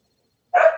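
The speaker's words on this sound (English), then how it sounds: "sorry about my dog barking in the background." A single dog bark, sharp and fairly close, breaks in after a moment of silence and cuts off at the end.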